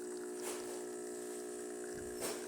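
A serviced DeLonghi Magnifica espresso machine brews a shot with a steady pump hum and a trickle of liquid. The sound is even and close, and a couple of brief hissy swells rise over it, with no voices.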